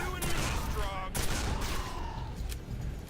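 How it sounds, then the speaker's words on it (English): Machine gun fire in Quake 4 rattles in quick bursts of sharp cracks at moderate volume, mixed with game effects and a few louder impacts. "A machine gun."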